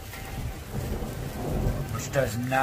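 Rumbling thunder rolls under steady heavy rain during a severe thunderstorm, a continuous close wash of rainfall with a deeper boom swelling near the end.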